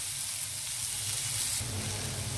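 Onions fry in a pan with a steady, close, even sizzle throughout, no voices over it.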